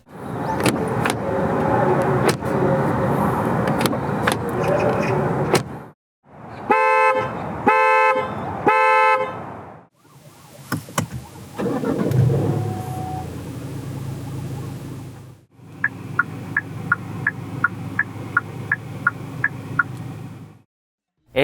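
Several distinct sounds from a 2021 Hyundai Sonata N Line, heard alone with no talk: a dense rumbling passage, then three short tonal honk-like bursts, then a steady hum with a rapid run of clicks or chimes.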